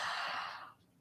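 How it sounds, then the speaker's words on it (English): A single long, breathy yawn during a hatha yoga session, a soft exhaled hiss that fades out over about a second, close and quiet. "Taking a big yawn."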